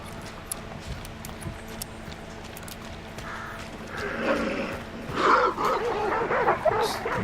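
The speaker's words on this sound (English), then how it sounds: "Just regular dogs, or starving dogs." Dogs barking in the game Hunt: Showdown, regular or starving hounds, a few sharp yelping barks rising in the last seconds over a busy ambient game backdrop.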